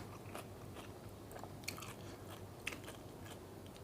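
Close, quiet crunchy bites and moist chewing of fried meatballs, with a couple of sharper crisp snaps standing out over a low steady background.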